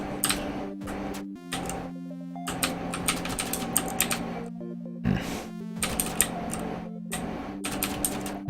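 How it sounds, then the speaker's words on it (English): A mechanical keyboard clacks in rapid, irregular bursts of keypresses during play of a keyboard-only platform game, close and steady, over a looping game soundtrack. "you do hear a lot of clicking because apparently this game is only controllable with a keyboard and I have a mechanical keyboard"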